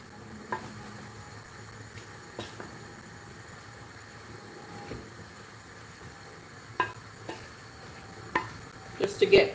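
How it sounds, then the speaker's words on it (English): Seasoned food being gently stirred in a pan, soft scraping and faint sizzle with occasional light clinks of utensil against the pan, quiet and close, louder clatter near the end. "So we give it a bit of a gentle stir."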